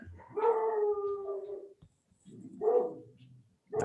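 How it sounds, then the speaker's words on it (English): A dog lets out a long, drawn-out howling bark, pauses, then gives another shorter bark and the start of a third, fairly close in an otherwise quiet indoor setting. "That's my dog barking."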